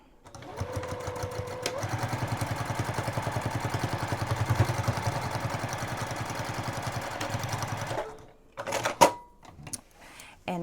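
A sewing machine stitches down a handle on a custom boxy bag in one long continuous run of rapid rhythmic needle strokes, loud and close, before stopping amid a few clattering handling sounds.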